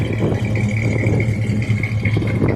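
An RV engine idles steadily with a low rumble and a faint rattling hum, running without a break.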